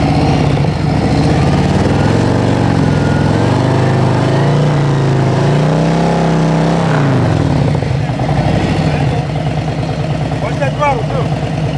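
A Harley Davidson Road Glide motorcycle engine runs at slow speed with a continuous low, throbbing rumble that swells and eases with the throttle, while someone talks over it throughout.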